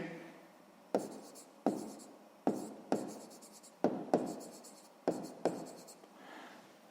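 Handwriting during a sixth-grade math exercise: about nine sharp, scratchy strokes land at uneven intervals, each tapering off quickly, close and clear with no talk.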